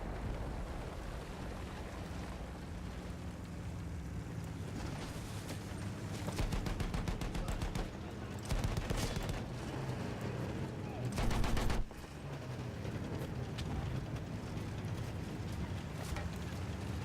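Machine gun fire in Battlefield 1 gameplay, dense rattling bursts and sustained volleys over a loud continuous battlefield din, with the heaviest burst near the end.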